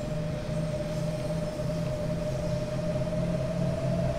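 A DB Regio electric train accelerating in the Train Sim World game on the S-Bahn Leipzig route gives a steady, loud traction hum with a sustained high motor whine and faint rhythmic rail pulses, with no talking.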